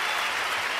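Applause sound effect played on a livestream, a brief dense burst of many hands clapping at steady loudness.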